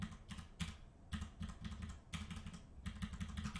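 Computer keyboard keystrokes while navigating a spreadsheet, rapid clusters of clicks broken by short pauses, close and fairly soft, with no voice.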